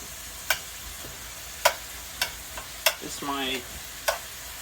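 Taco filling cooking in a pan makes a soft, steady sizzle under a few sharp utensil clicks and scrapes from stirring, with a brief tonal clatter near the end.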